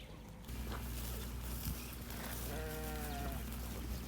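Goats bleat at a cheetah conservation farm, wavering calls rising over a steady low rumble of outdoor background noise, with a brief shuffle of movement near the start.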